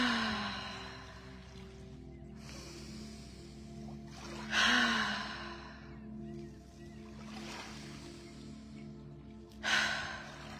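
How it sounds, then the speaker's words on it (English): A slow, deep breath drawn in calmly for relaxation, soft breathy bursts rising near 4.5 and 9.7 seconds over a quiet, steady background, with no talking. "We take a deep breath."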